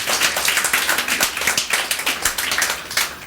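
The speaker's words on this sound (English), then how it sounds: "Round of applause again for the play," A seated audience gives a round of applause after a play performance: dense, steady clapping from many hands, close and loud throughout with no voices.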